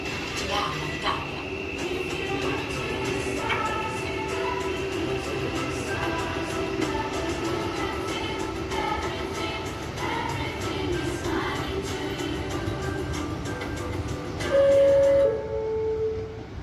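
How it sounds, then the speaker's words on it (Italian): A train rolls through Udine station past the platform, a steady loud rail rumble with squeals and hiss throughout and a brief whistle-like tone near the end. "Attenzione! Treno in transito al binario 6, allontanarsi dalla linea gialla."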